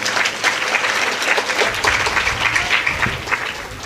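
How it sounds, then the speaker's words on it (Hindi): Audience applause at a Devi Bhagwat katha, a Hindu religious discourse: a steady wash of many hands clapping at once, sustained and fairly loud throughout, with no voices over it. "उसके लिए ताली बजाइए"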